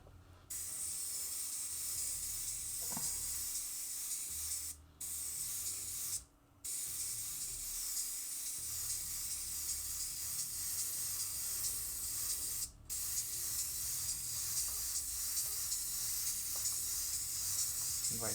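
A spray gun lays a coat of candy paint on a Harley Davidson part in long, steady hissing passes, with brief pauses near the middle and again later.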